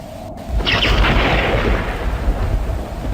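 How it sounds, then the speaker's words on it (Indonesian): A loud, deep rumbling crash rolls in after a brief sharp crack, sustained and heavy like close thunder, with wind-like noise underneath. "terdengar petir menggelegar memekakkan telinga"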